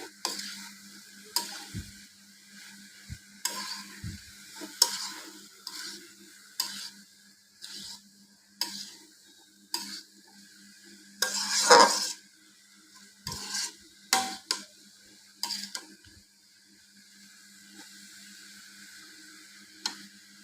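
A spoon works beaten egg with a pinch of salt into kayta frying in a pan, giving intermittent scraping stirs and clinks over a soft, steady sizzle, with quiet gaps between strokes.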